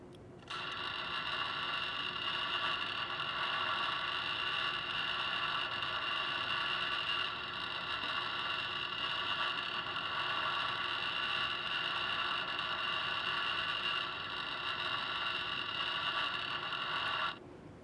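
A Miller AR welder lays a weld bead with a steady, crackling buzz that starts abruptly, holds unbroken for about sixteen seconds at close range, then cuts off sharply.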